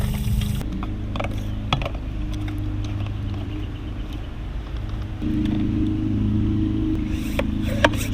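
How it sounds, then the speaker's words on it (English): A one-gallon pressure sprayer for cockroach control being pumped up by hand, a loud, close, steady mechanical churning with a low droning tone and occasional clicks. "Pump it up"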